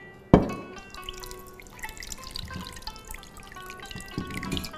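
Water is poured into semolina bread dough, starting with a sharp splash and followed by light dripping, trickling and wet squelches of kneading, close and fairly quiet.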